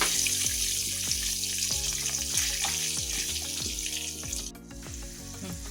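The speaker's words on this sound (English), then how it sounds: "Let it saute for about half a minute, and once it's fragrant enough" Ginger garlic paste and cumin sautéing in a pan, a bright sizzle overlaid with a rhythmic series of ringing, descending watery tones, fairly close and steady, with no voices.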